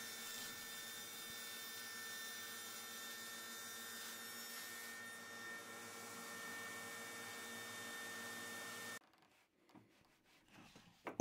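A power saw cuts wooden shelf boards with a steady, continuous whine for about nine seconds, then stops abruptly, leaving near silence and a few faint clicks.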